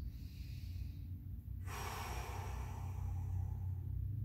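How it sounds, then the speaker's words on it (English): A person lying with feet flat on a wall takes a big breathing-exercise inhale and then a long, smooth exhale. The breath is close and soft, with a sudden airy rush partway through, over a low background rumble. "from here we're setting our breath with big inhales and exhales"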